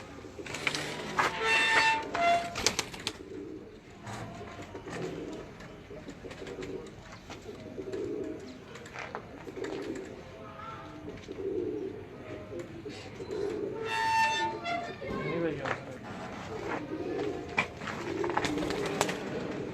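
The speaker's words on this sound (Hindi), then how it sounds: "बड़ा अच्छा कबूतर ये मैं जोड़ा लाया" A breeding pair of pigeons coos in soft, rhythmic, repeated calls close by, over a steady low rumble of background noise, with some brief chirps and rustling around them.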